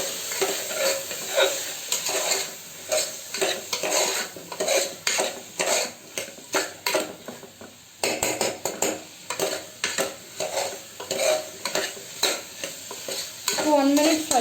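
Medium-size potatoes frying in a pan, a constant sizzle under repeated rhythmic scraping and clattering of a utensil against the pan, close and busy.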